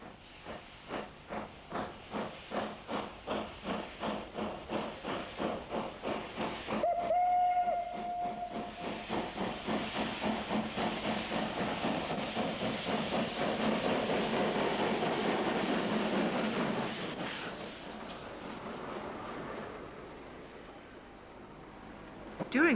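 Steam locomotive No. 03003 working a Slovenian steam excursion: rapid rhythmic exhaust chuffs that build and quicken, a sustained steam whistle blast partway through, then continuous hissing and rumbling of the running train, fairly close.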